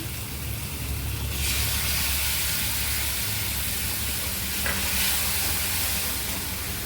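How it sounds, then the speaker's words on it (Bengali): Mustard paste frying with okra in a pan: a dense, steady hiss and sizzle runs throughout, with a brighter burst partway through, close and loud, with no voices. "সর্ষে বাটাটা দিচ্ছি"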